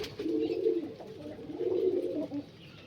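Malwai pigeons, sold as Punjabi pigeons at a loft in Dankuni, Hooghly, coo in two close, throaty rolling phrases with a short pause between.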